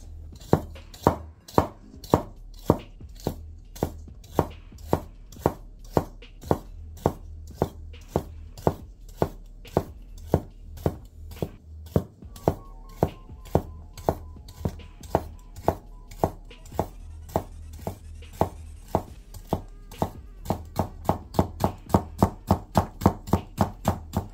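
Rapid, evenly spaced chops of a Katsumoto nakiri kitchen knife striking a cutting board through food, close and crisp, about forty strokes that speed up toward the end, with no talking.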